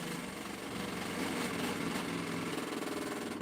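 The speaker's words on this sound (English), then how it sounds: "It's winding down because it didn't have a belt on it." A knife-making machine spins down with no belt on it, giving a steady mechanical whir and hum that holds fairly even at close range, with no talking.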